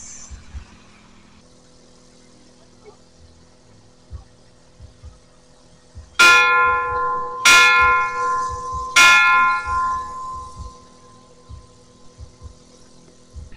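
A bell at a hilltop farm, rung three times after a wish is made, gives three loud ringing strikes about a second and a half apart, each with a long decaying tone, over a quiet background hum.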